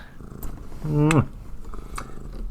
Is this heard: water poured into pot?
no